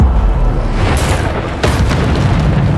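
Bombarda blasting spell explosions from Hogwarts Legacy, a loud rolling boom with a second sharp burst partway through, heavy low rumble sustained under it.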